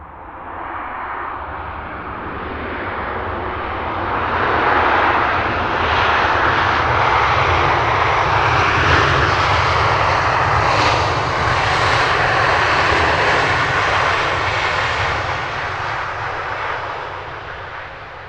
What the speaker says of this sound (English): Super bouncy landing for the Ryanair.